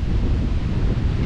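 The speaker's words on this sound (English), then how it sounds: "It's a tad windy." Strong wind buffets the microphone in a loud, rough rush, with the faint wash of surf underneath.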